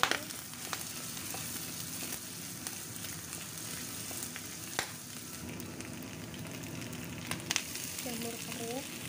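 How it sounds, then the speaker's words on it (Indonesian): Ginger frying in a pan for homemade vegetarian dumplings, a steady close sizzle with occasional stirring clinks and small pops throughout, no talking. "Kemudian goreng dulu jahe."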